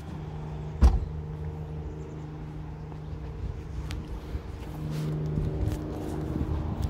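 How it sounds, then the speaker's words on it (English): A car sits idling as it is slowly driven off a trailer, a low steady engine rumble with a sharp knock near the start and scattered clunks and creaks as it moves. "So I'm going to drive this car off."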